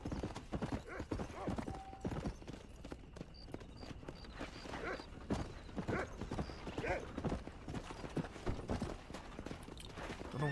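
Horse hooves clip-clop steadily beneath a rider in the Western video game Red Dead Redemption, a brisk repeating gallop rhythm, close and moderately loud, joined by a brief whinny and other game sounds.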